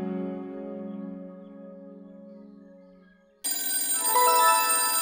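A telephone rings in a domestic setting, a steady electronic ring with layered tones lasting about three seconds and fading slightly, then cut off by a brighter, louder burst of music or sound.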